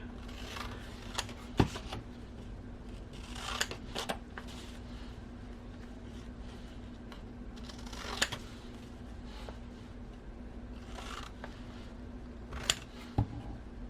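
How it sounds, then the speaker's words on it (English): Scissors snip through paper pockets for a junk journal, a few crisp cutting strokes at intervals over a steady low hum, close and fairly quiet, with no talking. "we're just going to cut those at the 2-inch mark"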